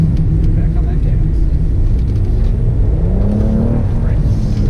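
Race car engine roaring on a track from inside the cabin, loud and steady with the pitch rising as it accelerates, while a voice talks over it.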